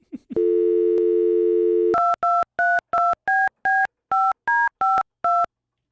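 A telephone handset gives a steady dial tone, then about ten crisp DTMF dialing beeps follow at an even pace, loud and close with no voices.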